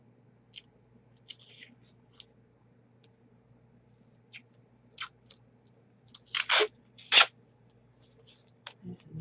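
Sticky Scotch 3mm tape is handled and pressed onto a paper-and-glue Halloween spider: sparse soft clicks and taps, then a couple of louder ripping pulls near the end, close in a quiet room.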